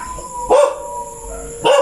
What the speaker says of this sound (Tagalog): pakinggan nyo yung mga aso